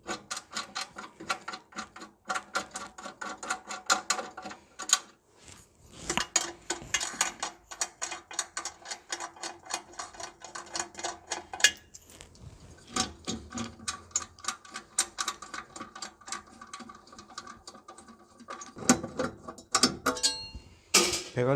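Four bolts being unscrewed from the stainless steel pipe of a THCR 01 coffee roaster, heard as a dense run of rapid ratchet clicks in bursts separated by short pauses, close and fairly loud with no talking.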